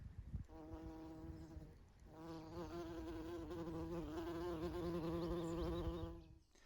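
Bumblebees buzz around red clover flowers, a close, loud droning hum from one bee that starts briefly, pauses, then resumes steadily and wavers in pitch before fading, with no talking.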